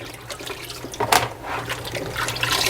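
Water drains and trickles from cooled okra set back in a basket at a kitchen sink, a steady close wash of running and dripping liquid.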